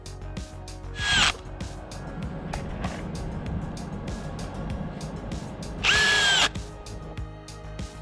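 Makita and DeWALT cordless screwdrivers driving a long run of screws, sped up into a dense clatter of rapid short bursts, with two louder high whirring runs standing out over the steady mechanical background.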